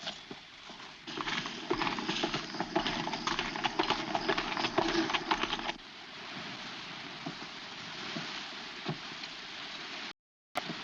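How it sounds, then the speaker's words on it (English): Horse hooves clip-clop in a steady rhythm, fairly close, over a soft background hiss in a 1940 western film, fading quieter partway through before a brief silence. "Take Moose's horse behind those rocks and hide him."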